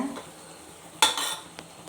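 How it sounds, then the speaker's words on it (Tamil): Coriander and mint leaves sautéed in a pressure cooker, with a sharp metallic clink of a ladle against the pot followed by brief scraping and a soft sizzle, close by. "கொத்தமல்லி ஒரு கைப்பிடி போட்டிருக்கேன் புதினா ஒரு கைப்பிடி போட்டிருக்கேன் போட்டு நல்லா வதக்கி விடுங்க"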